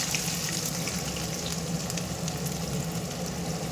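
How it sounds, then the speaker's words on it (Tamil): Hot oil with mustard seeds sizzling steadily as chopped onion goes into the pan for a spicy mushroom gravy, a dense, even frying hiss with faint pops throughout, close and without talk. "கடுகு வந்து நல்லா பொரிக்கட்டும். அப்புறமா என்னது கட் பண்ணி வச்ச ஆனியனை சேர்த்துடலாம்."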